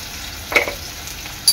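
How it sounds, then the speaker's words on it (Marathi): Onion frying with curry leaves and salt in a pan for mushroom chana dal, a faint steady sizzle with a couple of brief stirring scrapes, close and alone. "कांदा चांगला मऊ होईपर्यंत शिजवून घ्यायचा आहे।"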